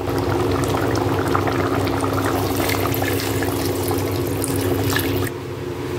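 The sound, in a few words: pouring the remaining water into a cooking curry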